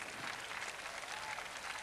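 A tennis crowd applauding at the Arthur Ashe court during the 2001 Rusedski–Bjorkman match, steady dense clapping heard from a distance, fairly quiet and unbroken throughout.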